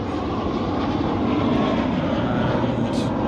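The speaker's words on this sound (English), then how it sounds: "I've just got a plane taking off there." A loud, steady roar of an airplane engine as a plane takes off at Manchester airport, sustained throughout, broad and rumbling, with faint voices underneath.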